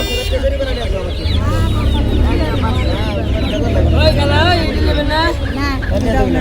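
Native chickens and ducks cluck and squawk in a dense, continuous chorus at a large rural poultry market, with people talking and a crowd babbling underneath.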